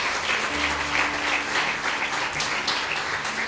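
A church congregation at a Pentecostal prosperity conference applauds, steady dense clapping filling the space throughout, with a faint low hum of instruments or sound system beneath.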